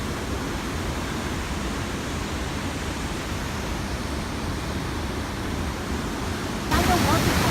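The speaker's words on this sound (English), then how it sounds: "We are now next to the waterfall." The Tatzelwurm waterfall roars as a constant, dense rush of falling water heard from close by, broad and unbroken, swelling slightly louder right at the end.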